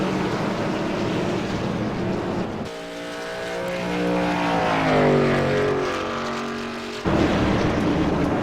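A race truck engine winds up on an oval track: steady engine roar, then a louder droning whine that climbs and sweeps in pitch for several seconds before the broad engine noise returns. There is no talk.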